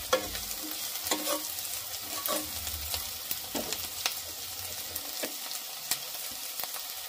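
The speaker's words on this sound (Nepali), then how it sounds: "बेसार मैले आधी चम्चा बेसार राखेर मजाले चलाउनुपर्छ" Kinema, a fermented soybean curry, frying in a pan while turmeric is stirred in, giving steady close sizzling with repeated scraping strokes of the spoon throughout and no talking.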